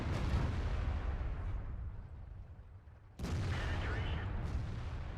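Tank cannon fire in World of Tanks, a T34 tier 8 premium heavy tank putting repeated shots into an enemy T32: deep booming blasts with a rumbling low end, a sharp new report at about three seconds, loud and close.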